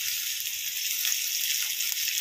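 About a dozen small shallots, sliced into rings, sizzle steadily in hot coconut oil, a dense, continuous frying hiss heard close and alone with no talking.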